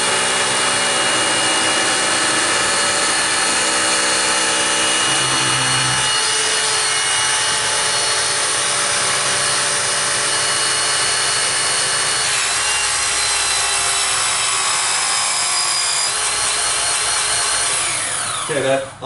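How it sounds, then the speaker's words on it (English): A Hurst eDraulic rescue tool at full stroke drives a loud, steady mechanical whir and grinding hum that holds for most of its length, with a relief-valve oscillation, before cutting off abruptly at the end. "that oscillating sound, that's the relief valve"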